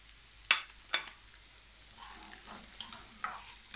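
Chopped onion and capsicum sautéing in a pan for chilli chicken, a soft sizzle broken by a few sharp stirring clinks and scrapes of a spoon, close and fairly quiet, no voices.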